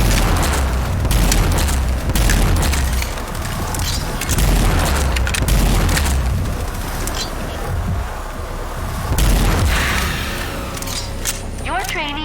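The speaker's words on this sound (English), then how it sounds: "Use the hyper cannon's overdrive against the simulated enemies." Hyper cannon firing in overdrive in the video game Rage 2, repeated heavy booming blasts and mechanical bursts across the stretch, loud and close, with a synthetic electronic sweep near the end.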